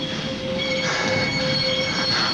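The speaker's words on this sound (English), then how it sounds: "they hop onto a speeding freight train" A speeding freight train in a 1985 film scene, its wheels squealing loudly in long steady metallic tones over a continuous rumbling roll, with no voices.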